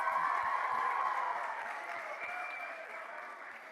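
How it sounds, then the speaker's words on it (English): Applause at a youth charity community day honouring scholarship recipients, a soft, steady patter of many hands heard at a distance that slowly fades. "Please give them a round of applause."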